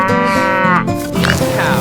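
Cartoon cow mooing in a long, loud, close drawn-out call with a wavering pitch, heard alone for under two seconds.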